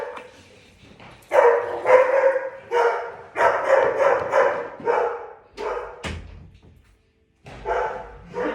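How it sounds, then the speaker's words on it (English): Dogs barking repeatedly nearby, loud bursts in clusters with brief gaps, a couple of yips mixed in. "Oh, I hope they don't start barking."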